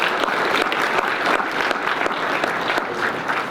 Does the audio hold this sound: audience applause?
yes